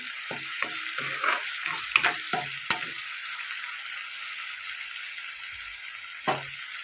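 Tomatoes and green chillies fry in a pan while being stirred, a steady sizzle running throughout with a scatter of scraping, clinking stir strokes early on and one more near the end.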